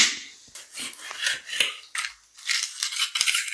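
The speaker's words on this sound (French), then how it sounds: "Couper les poivrons." A kitchen knife slicing garden bell peppers on a board for a vegetable tart, a series of crisp taps and scraping cuts in an uneven rhythm, close and moderately loud with no talking.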